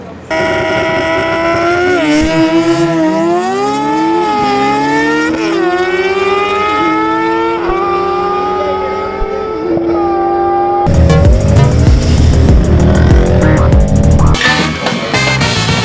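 A high-pitched racing motorcycle engine revs up and down through repeated rising sweeps, then breaks into a louder, rougher roar near the end.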